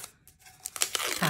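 Cotton paper is peeled off a warm sublimation tumbler, short crinkling and tearing sounds that grow louder and more rapid toward the end, heard close up without talking.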